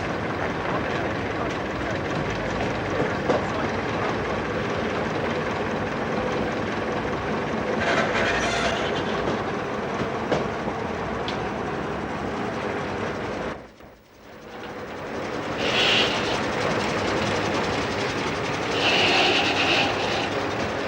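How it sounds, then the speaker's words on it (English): A loud, continuous rumbling Bulleid Merchant Navy class steam locomotive passes close by, its steady roar broken by a brief dip, with faint whistle-like tones and voices in the background. "one of Mr. Bulleid's Merchant Navy class engines"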